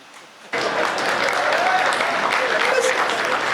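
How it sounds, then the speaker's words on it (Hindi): Audience applause breaks out abruptly after a brief hush at a Hindi comedy poetry gathering, then carries on as loud, sustained clapping from a large crowd. "इतनी तालियां बहुत है"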